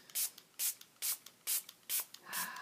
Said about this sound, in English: I'm going to spray it with water